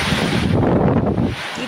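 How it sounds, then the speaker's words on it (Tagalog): Strong typhoon wind roars and buffets the microphone in a heavy, continuous rush, lashing trees, briefly easing near the end. "Kita ang pagbayo ng malakas na hangin sa mga puno"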